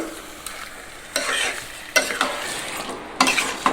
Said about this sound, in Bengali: এই মাংসটাকে ভালো করে ভাবে কষিয়ে নেব চাপা দিয়ে দিয়ে আমি মাংসটাকে কষাবো ভালো করে